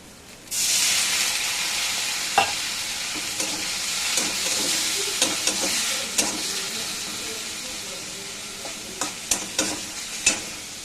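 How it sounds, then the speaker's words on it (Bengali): Curry sautéed in a pan, a steady loud sizzle and hiss of frying with intermittent scraping clicks from stirring, close up and continuous throughout. "দেখো কষে দিলাম, কষতে একটু জল দেবো।"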